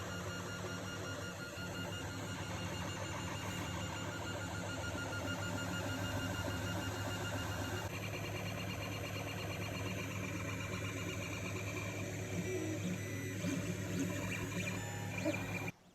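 A 3D printer building Mark 6 parts hums faintly and steadily, with soft stepper-motor whirs and chirps as the bed and head move, alone without talk.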